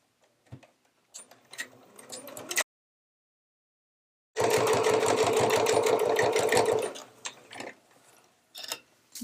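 A sewing machine stitches down a pleat on fabric for a low-profile hip bag. Quiet handling and fabric rustling come first, then a short pause, then a loud, close, steady rapid mechanical stitching run lasts about two and a half seconds before handling noises return.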